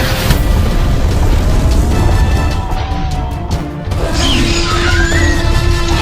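A loud, rumbling boom from a video game explosion behind a mountain rolls on continuously, followed by crashing debris and a sustained low roar.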